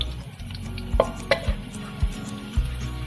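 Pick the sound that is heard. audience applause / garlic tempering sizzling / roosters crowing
garlic tempering sizzling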